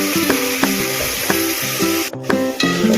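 Mixed vegetables such as potatoes, peas and onions sizzle loudly in hot oil inside a pressure cooker, a steady close frying hiss broken by a few scraping stirs.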